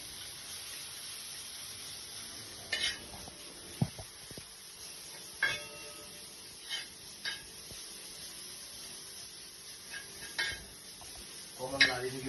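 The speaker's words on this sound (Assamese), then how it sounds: "অকণমান লাৰি থাকিব লাগিব" Stirring a carrot chira mixture with sugar in a pan: soft scraping and clinking of a utensil against the pan with a faint sizzle, scattered strokes at an unhurried pace, close by.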